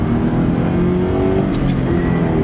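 Car with a manual transmission accelerating on the road, a steady loud engine drone with a slight rise in pitch, heard close from inside the cabin.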